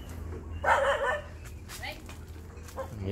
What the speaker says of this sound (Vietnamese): chó sủa quá